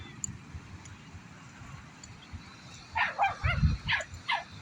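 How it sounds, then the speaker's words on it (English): Several dogs play and bark outdoors, a scattered run of yips and barks that builds toward the end over a low rumbling background. "The dogs are playing."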